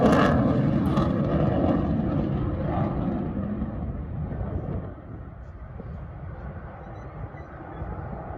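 An F-22 fighter jet performing a thrust-vectoring air demonstration roars loudly and steadily with broad, sustained jet noise that eases slightly partway through, heard without talk.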